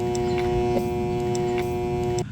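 A spa jacuzzi pump motor that hums without starting: a steady, loud electrical hum with strong even tones, close up and unbroken for about two seconds before cutting off abruptly at the end.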